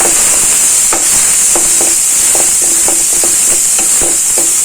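Curry leaves sautéing in hot oil in a pan for a brinjal and drumstick kuzhambu, a steady loud sizzle with repeated light scraping and stirring clicks of a spoon against the pan.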